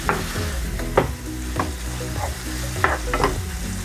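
Chorizo frying in a pan, with a steady sizzle under repeated scraping strokes of a utensil stirring the meat, close and moderately loud, no talk.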